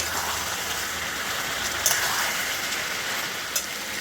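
Boiled mutton being fried again in an oily pan, giving a steady, dense hiss of sizzling throughout, with two brief louder spits partway through.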